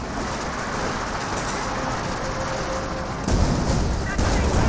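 Tank cannon fire in a Company of Heroes 2 battle: a constant rumble of combat noise, then two heavy booming hits in quick succession near the end.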